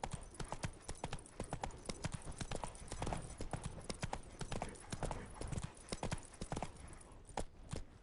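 Galloping horse hooves in a PS4 game beat out a rapid, sharply accented clip-clop rhythm that runs steady and close throughout, with no speech.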